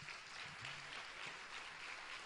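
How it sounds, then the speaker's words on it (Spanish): Steady applause from an audience at an open political assembly with older attendees, continuous dense clapping heard at a moderate distance and fairly faint. "Un aplauso para él."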